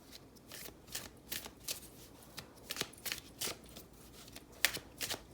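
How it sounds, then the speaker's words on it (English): An Aphrodite Oracle card deck shuffled by hand gives quick papery riffles and soft slaps in an irregular rhythm, close and fairly quiet, with no talk. "let's go ahead and pull you one of my Aphrodite cards"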